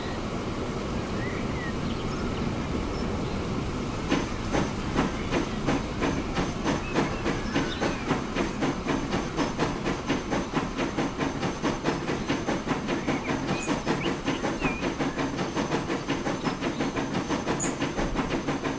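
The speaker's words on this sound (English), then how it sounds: "Let's see if this train can catch up to the other train." A train rolls along the rails in the video game Transport Fever 2, giving a steady, close rumble with a faint hiss and a regular clickety-clack beat that runs the whole time, with no talking.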